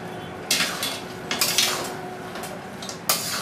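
Chironji being stirred into carrot halwa in a pan, heard as close, loud bursts of metal spoon scraping and clanking against the pan, with no talking.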